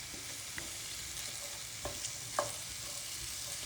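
Vegetables soften in a pan over low heat, giving a steady, gentle sizzle with a few light scrapes and clicks from the utensil.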